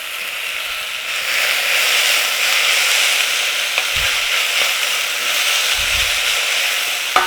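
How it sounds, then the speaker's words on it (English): Garlic frying with onions in a pan gives a loud, steady sizzle that holds throughout, broken by two soft low knocks of stirring and a small clatter at the very end, with no talking. "Chuck in your garlic."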